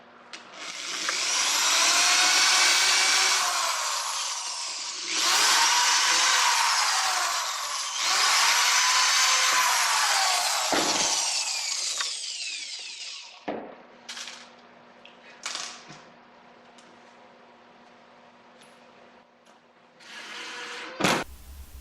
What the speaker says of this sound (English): I'm holding my glide in place, and I'm going to drill here, here, and here.